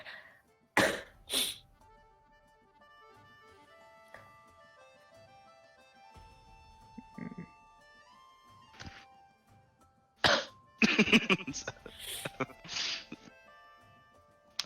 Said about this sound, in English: Leslie just coughs.